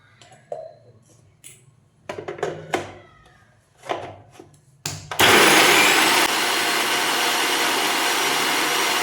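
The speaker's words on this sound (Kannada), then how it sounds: "4 ಟೊಮೊಟೊ ಮತ್ತು ಸ್ವಲ್ಪ ಕೊತ್ತಂಬರಿ ಸೊಪ್ಪು, ಆಮೇಲೆ ಕೊಬ್ಬರಿ, ಸ್ವಲ್ಪ ಬೆಳ್ಳುಳ್ಳಿ, ಜೀರಿಗೆ ಇಷ್ಟು ಮಿಕ್ಸಿ ಮಾಡ್ಕೋಬೇಕು" A kitchen mixer grinder blending tomato, coriander leaves, coconut, garlic and cumin starts up after some handling clatter, then roars loud and steady for several seconds before settling into a slightly lower continuous whir.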